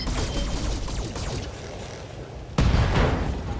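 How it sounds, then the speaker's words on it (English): An LRM missile explosion in the Battletech game: a rumbling barrage fades, then a sudden loud blast bursts in near the end and rings on briefly. "LRM explosion"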